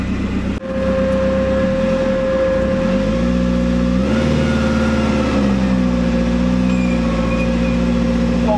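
A Commer 2.3 turbo fitted with an in-tank EFI fuel pump and squeaky rear brakes drives on a test run, its engine droning loudly and steadily, revs climbing and shifting pitch midway, with no talking.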